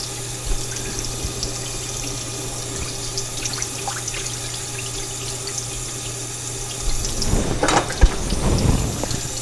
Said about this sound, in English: I'll run a little bit of cold water over it.